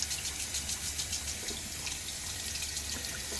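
Cold water runs steadily from a tap into a sink during a shave, a soft continuous splashing hiss, fairly quiet and close, with no talking.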